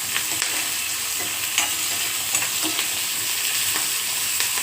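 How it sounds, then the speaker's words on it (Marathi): Bay leaf, cumin and onion being stirred and sautéed in a hot pan, with a steady sizzle and repeated light scrapes of the spoon, close and continuous with no talking. "त्याला छान परतून घेऊया."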